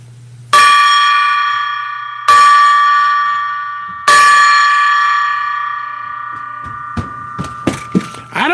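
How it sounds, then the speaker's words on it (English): A gong is struck three times, each hit blooming into a loud, bright ringing tone that slowly decays, followed by a few lighter taps and clanks at the end. "Let's ring the gong"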